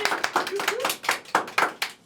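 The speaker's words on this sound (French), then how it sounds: "je pense qu'on peut applaudir ça." A talk-show audience breaks into clapping, heard as sharp, uneven bursts of claps rising and falling in quick succession, with talk mixed in among them.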